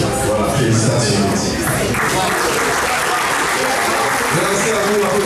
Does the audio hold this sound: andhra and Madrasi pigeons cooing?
no